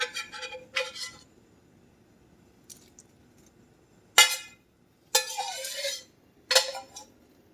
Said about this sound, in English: So now we're going to put in our beef that we browned.